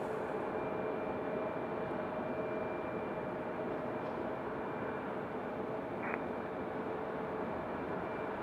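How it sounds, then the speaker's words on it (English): An American Airlines Boeing 737-800 arriving at Raleigh-Durham airport makes a steady, fairly distant rumble that holds even throughout, with a faint whine above it. "our next arrival is going to be American Airlines 2660. Coming in from Dallas, Fort Worth, that's another 737-800"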